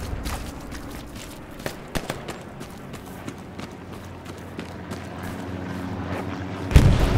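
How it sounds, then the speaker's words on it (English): Artillery fire in the Hell Let Loose game lands as a run of dull thumps and sharp cracks scattered across the scene, some near and some distant, ending in a heavy close boom over a low battlefield rumble. "That's all our fucking artillery!"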